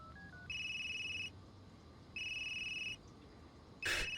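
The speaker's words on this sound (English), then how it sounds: "Why don't we try calling it?" Phone calling a number in the video game Unheard: a few short dial tones, then two long electronic ringback tones with a pause between, and a brief sharp burst at the end.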